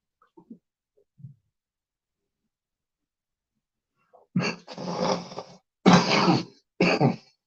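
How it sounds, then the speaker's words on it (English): A few faint breaths, then a cluster of harsh, close coughs in quick succession, three or four bursts with brief pauses. "So I try not to cough again."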